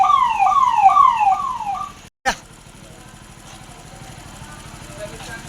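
A loud wailing siren sweeps up and down repeatedly for about two seconds, then cuts off abruptly with a sharp click, leaving a low background hum.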